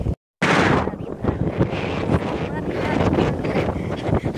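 Strong, cold wind buffets the microphone in open countryside, a loud continuous roar with gusting surges that starts just after a brief dropout and persists throughout.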